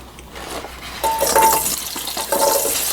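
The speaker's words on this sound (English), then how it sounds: "You can hear it sizzling when it goes in." Carrots and celery hit hot oil in a pan and sizzle in two bursts, each with a brief stir and a clink of cookware, loud and close with no talk.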